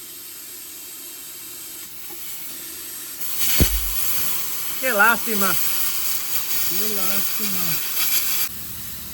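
A plasma cutter hisses steadily for several seconds, a harsh roaring spray of noise, while someone speaks over it.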